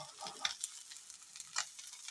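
Ribbonfish frying in a pan makes a faint, soft sizzle, with a few light clicks and scrapes scattered through the short stretch.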